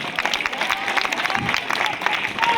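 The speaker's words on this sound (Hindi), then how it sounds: "ताली बजा दो इस रिकॉर्ड को बनाने के लिए।" Spectators clap and cheer at a boys' school basketball final between Braham Jyoti Public School and Jai Paarvati Public School. The steady, dense applause fills the whole stretch with crowd murmur underneath.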